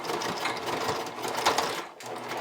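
A sewing machine top stitching thick elastic on high-waist bikini bottoms with a straight stitch, running as a steady close whir with a short pause near the end.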